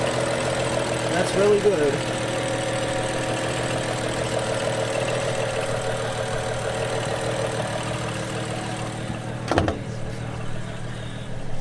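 A 2012 BMW 335i M-Sport idles with a broken pulley and no belt fitted, producing a steady, close, loud engine hum with a faint rough edge. A voice is heard briefly over it.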